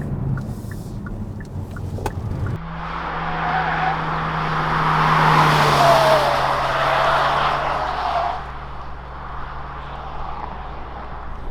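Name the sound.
Hyundai Kona N-line 1.6 liter turbo engine accelerating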